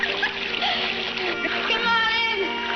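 Water splashes and churns in a swimming pool with steady splattering and dribbling, while voices, including a child's, talk over it.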